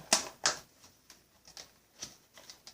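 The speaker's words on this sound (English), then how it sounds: "I think I want to cut some up" A knife chops fresh chives on a cutting board, giving a few sharp, quiet taps at an uneven rhythm. The first two strikes are the crispest and the rest are fainter.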